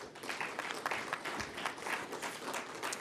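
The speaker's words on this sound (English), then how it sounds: "May we please give him a round of applause." Audience at a public administration conference applauds a guest, dense continuous clapping from a sizeable crowd, fairly distant and even throughout.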